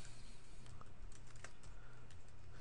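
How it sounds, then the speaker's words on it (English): Quick, light keystrokes tap on a computer keyboard while text is entered into a spreadsheet cell, a soft, steady run of clicks under faint room noise with no talking. "And so I'm going to type employee payroll."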